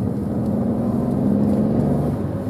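Interior of an Opel Grandland X with a 1.2 turbo three-cylinder engine pulling away, a steady muffled low engine drone with a faint rising tone, continuous and close.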